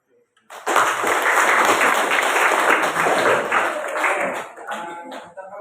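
A school class applauds its principal during an academic supervision session, a steady burst of clapping rising suddenly and fading toward the end, with voices mixed in.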